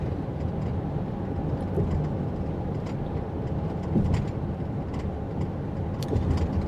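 Steady road and engine rumble inside a Toyota Sienna XSE hybrid minivan on 18-inch wheels, cruising at about 50 mph at night, a continuous, even drone with slight swells.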